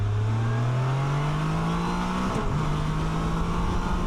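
A 2025 Can-Am Canyon three-wheeled motorcycle accelerates hard on the road, its engine note climbing steadily, then a brief dip during a gear shift before the pull resumes, loud and close throughout with no talking.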